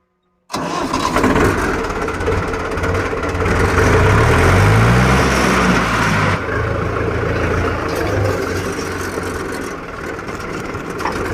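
A heavy Balwan 500 tractor engine cranks and catches, roaring loudly at first and then settling into a steady rumbling idle nearby, with no voices.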